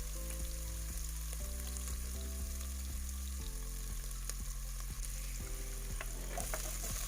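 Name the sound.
garlic and onion frying in oil in a pot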